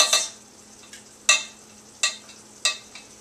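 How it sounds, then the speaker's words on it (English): A utensil scrapes and stirs gelatin into a hot marshmallow sugar syrup in a pot, four sharp strokes at roughly regular intervals over a faint steady hum. "I'm going to add the gelatin and stir it in"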